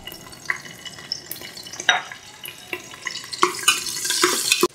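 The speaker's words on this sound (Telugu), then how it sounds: "ఫస్ట్ అయితే గ్రీన్ చిల్లీ వేస్తున్నా" Green chillies hitting hot oil in a pan for little millet kichidi, crackling and spitting in bursts that build to a dense sizzle, close by with no voices.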